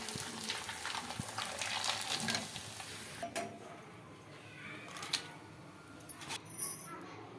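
Ragi papads frying in plenty of hot oil, giving a crackling sizzle that fades after a few seconds, followed by scattered clinks and taps of a utensil against the pan.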